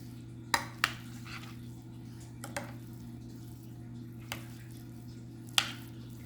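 A spoon knocks against a bowl while mashed potatoes are mixed with eggs and butter: a few sharp scattered clinks over soft squishing, with a steady hum in the room.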